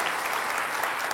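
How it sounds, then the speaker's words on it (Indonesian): A television studio audience applauds in a continuous burst of many hands clapping together, a dense, even wash of claps heard up close. "Kita beri aplaus untuk Pak Basuki Cahayapurnama."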